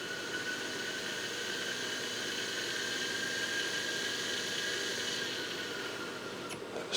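Gyro unit from an RAF Sepecat Jaguar jet fighter spinning after a hand start, giving a steady, close, high whine with a faint rushing hum beneath, and a small knock right at the end.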